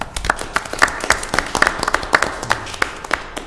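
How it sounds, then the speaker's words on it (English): A brief round of applause at a community redevelopment housing commission meeting, a small group clapping with distinct, fairly close individual claps in a loose rhythm, without talk. "a little round of applause for Sylvia for her promotion"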